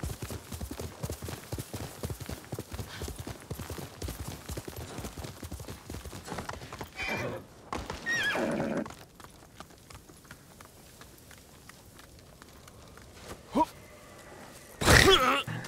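Rapid rhythmic hoofbeats of a galloping horse in the video game Ghost of Tsushima, then a short whinny and snorting bursts, with some talk mixed in.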